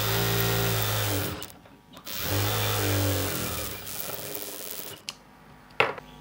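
A sewing machine runs in loud whirring bursts while stitching a churidar pant, the motor buzzing steadily, dropping out briefly twice, then resuming with short stop-start runs at the end.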